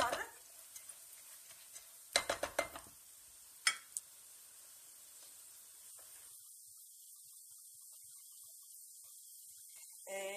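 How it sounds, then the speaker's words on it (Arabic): Rice is stirred in butter in a pot, giving faint, scattered scrapes and clicks with a soft sizzle beneath, fading to near silence in the second half. "نواصلوا في التحريك هكا لين يشرب الزبده هذيك"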